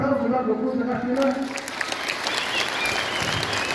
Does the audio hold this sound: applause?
yes